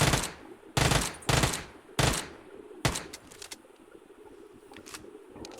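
Bursts of UMP submachine gun fire in the battle royale game BGMI, several loud rapid volleys in the first three seconds followed by a single shot and fainter scattered shots and clatter.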